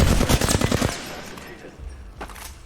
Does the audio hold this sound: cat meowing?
no